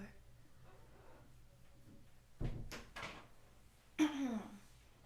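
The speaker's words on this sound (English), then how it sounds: "let me go close the door." An indoor door is pushed shut, giving a few soft thumps and scrapes followed by a sharper closing knock near the end. The sounds are faint and close, over a quiet room.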